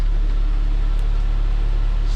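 A Saab 9-3 engine idles quietly with its belt removed, giving a steady low hum and even pulsing drone with a faint whir above it, constant and close, no talking.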